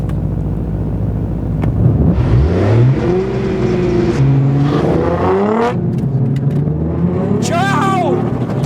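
A Mercedes-AMG GT R and a Nissan GT-R launching in a drag race, engines revving hard with rising, sweeping pitch through repeated gear pulls, loud and close, with voices briefly over the noise.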